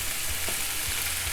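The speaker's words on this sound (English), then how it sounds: "These are starting to sizzle quite well, so we're just going to pop the heat down a smidge." Harissa-marinated chicken pieces fry in a hot pan, giving a dense, steady sizzle close up with a couple of soft stirring knocks and no talking.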